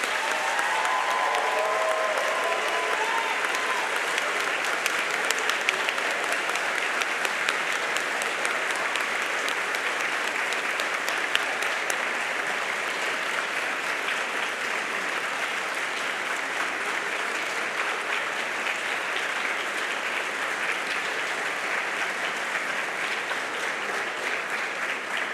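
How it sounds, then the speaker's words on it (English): Graduation ceremony audience in a large hall breaking into long, sustained applause with some cheering, a dense, even wash of clapping that holds steady throughout without any speech. "Let them hear your heartfelt thanks with a huge round of applause and cheer."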